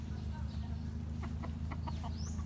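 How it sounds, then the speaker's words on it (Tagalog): Chickens cluck in a rural backyard in Nueva Vizcaya, a few soft, irregular clucks heard faintly over a low, steady background hum. "yan, mga manok."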